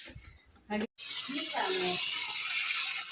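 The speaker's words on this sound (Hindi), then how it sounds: "ये हो रही भाई सब्जी साफ, खुले पानी में, ताज़ा पानी, फ्रेश पानी।" Fresh greens rinsed under a running supply tap, a steady broad gush of water that fills most of the moment after a short break, with a voice speaking briefly over it.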